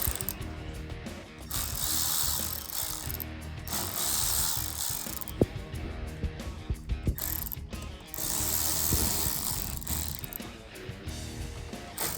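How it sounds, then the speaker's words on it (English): Hand ratchet with an 8mm socket loosening a clamp on a V8 Dodge Challenger, a steady rapid clicking of the pawl running through most of the stretch with brief pauses, close and fairly loud. "8mm socket. Going to remove clamp first."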